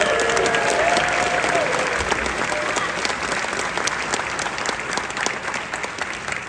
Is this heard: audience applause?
yes